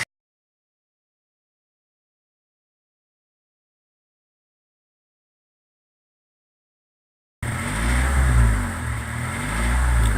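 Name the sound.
1994 Honda Del Sol SI engine revving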